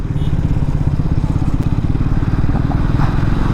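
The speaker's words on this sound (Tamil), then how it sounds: "ஃபர்ஸ்ட் ஆஃப் ஆல் நான் ட்ரைம்பில் வந்து ஸ்பீடு 400 தான் நம்ம எடுத்திருக்கோம்." A Triumph Speed 400 motorcycle, loud and close, its engine thrumming with a steady rapid pulsing beat throughout a group ride, with no clear talk over it.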